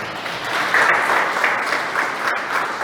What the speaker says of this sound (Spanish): Un aplauso a Jesús por eso.